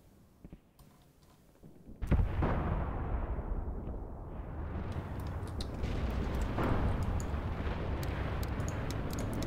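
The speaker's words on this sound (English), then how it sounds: "Guns are engaging the tanks." Artillery guns firing on tanks in the Graviteam Tactics wartime strategy game: a heavy boom lands early, then a dense, sustained rumble of bombardment rolls on, with a few faint pops beforehand.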